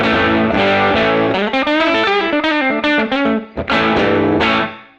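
Electric guitar through a tube vintage combo amp model in AmpliTube 5 with lots of reverb and room-mic ambience, bright driven phrases and chords with washy tails, a brief gap, then a final ringing chord fading out.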